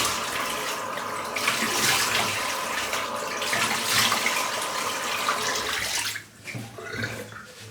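Tap water running steadily while soap is rinsed off skin after shaving, a continuous close splashing hiss that dips briefly near the end, with no talking.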